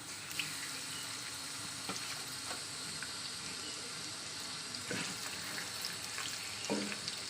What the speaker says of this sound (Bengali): এই কড়াতেই মাছটা ভাজা করে নেবো